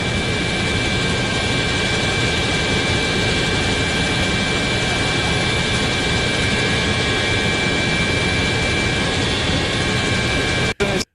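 A helicopter flies over the Hokkaido coast of Japan during tsunami news coverage, its steady loud rotor and engine roar continuous and unbroken, cutting out abruptly right at the end.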